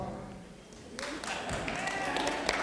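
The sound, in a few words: scattered audience applause at a comedy show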